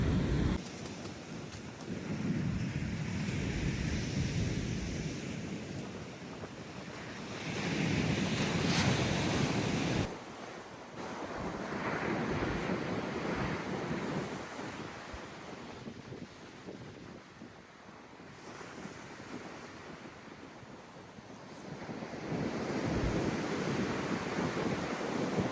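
Wind gusting across Chesil Beach at Abbotsbury during a fishing session, a heavy buffeting rush against the microphone that swells and eases in waves with surf roaring underneath, with no talking.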